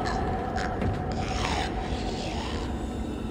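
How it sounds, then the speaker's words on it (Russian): A rasping, grinding sawing noise from the horror game Dead Space, steady and fairly loud across the whole stretch with scraping, filing-like texture and some metallic swells. "Она его пилит?"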